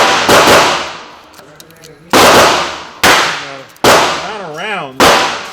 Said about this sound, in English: I'm just going to shoot this one mag here while I get that one loaded